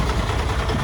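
Car engine running smoothly after repair, a steady low idling rumble with constant vibration, loud and close with no other sounds.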